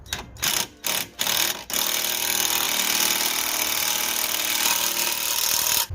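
A power drill runs a nut onto a rear shock absorber bolt on a Dodge Magnum, revving in a few short bursts, then running continuously for several seconds, loud and close, before stopping.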